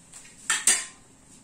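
Two quick clinks of a utensil against a dish as ingredients are mixed together with salt, close and fairly loud, with a faint scrape before and after.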